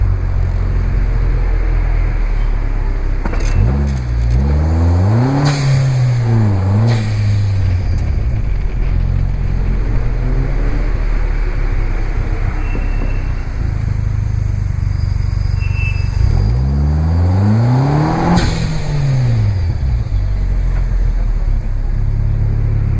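Vanderhall Venice Speedster running in automatic drive mode through Monaco, a loud, steady engine drone heard from the cabin, rising and falling in pitch through a couple of shifts and accelerations, with no talk.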